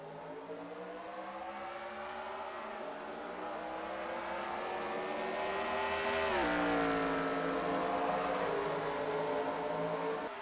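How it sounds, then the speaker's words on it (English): Several video-game race car engines roar together at the start of an All-Star race, their pitch climbing as they rev and then dropping into a sustained, buzzing drone. "Drivers, start them engines!"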